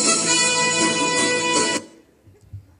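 Dramatic news-channel style theme music, a loud full orchestral burst with brass-like sustained chords, cutting off sharply after under two seconds into near silence.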